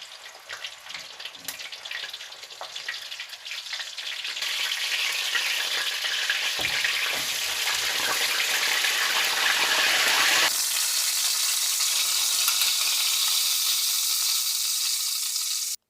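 Chicken leg pan-fries in oil in a wok, a loud, steady sizzle that swells and intensifies partway through, then settles into a bright hiss, with no talking.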